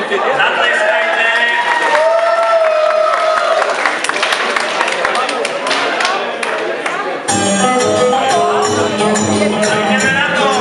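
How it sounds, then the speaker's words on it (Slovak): Dense crowd applause fills a hall at a village firefighters' ball in Korňa, loud and sustained under chatter and a speaking voice, with the sound shifting partway through as music seems to come in. "Takže podleskom ich privítame, zatleskajte."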